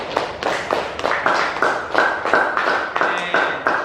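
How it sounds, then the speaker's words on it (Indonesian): Students in a classroom applaud, a quick run of hand claps in a steady rhythm over a few seconds, fairly close and moderately loud, without speech. "Pak Guru ingin kalian memberi penghargaan kepada teman-teman yang sudah berani maju ke depan dengan tepuk tangan"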